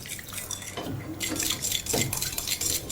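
A spoon stirs and scrapes ingredients in a bowl, with soft clinks and clatters of metal against the dish repeating close by over a few seconds, alone without talk.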